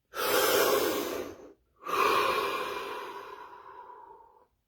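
A deep breath during a guided body-scanning session: one long breathy inhale, a brief pause, then a long slow exhale tapering off, close and clear with no other sound.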